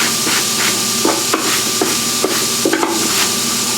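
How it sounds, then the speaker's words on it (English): Sharp metallic hammer strikes ring out on an anvil, closing the eyes of a draw knife in annealed steel, about eight irregular blows close by over a steady background hiss. "use a hammer on the anvil to close these two eyes while it's still in an annealed and soft state"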